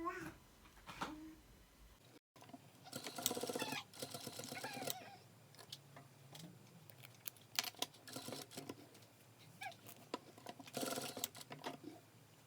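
A sewing machine stitching a seam in red fabric, with short runs of fast, fine mechanical rattling separated by pauses and small handling noises, fairly faint and close, with no talk.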